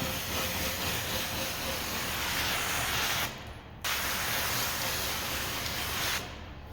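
An electric sprayer built for a window tint solution tank runs with a steady broadband hiss, cutting out briefly twice as the spray stops and restarts, fairly quiet and close with no talk.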